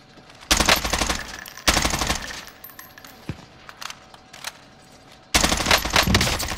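Automatic gunfire from Call of Duty Warzone Rebirth comes in three loud, close bursts of rapid shots, separated by quieter gaps with scattered single cracks.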